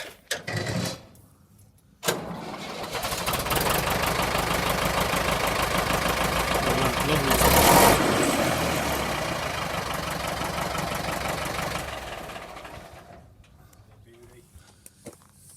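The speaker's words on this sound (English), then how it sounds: "Good sound tractor that is." A vintage Cornish tractor engine idles with a steady mid-low chugging rumble, starting abruptly after a short pause, swelling briefly louder mid-way, then fading out near the end, heard close with no talk over it.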